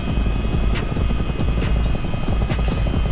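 Rotor thump of a Miltech CH-47D Chinook tandem-rotor helicopter in Microsoft Flight Simulator 2020, a steady loud droning whir with low throbbing pulses running throughout, no voices.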